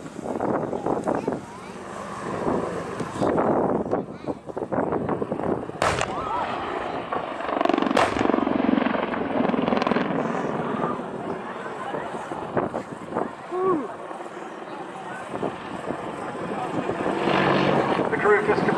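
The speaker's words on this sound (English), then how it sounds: "the 2014 attack helicopter display team." An Apache attack helicopter performs a display routine at the 2014 Cosford Airshow, its rotor and engine roar rising and falling as it passes at varying distance, with wind buffeting the microphone and crowd voices underneath.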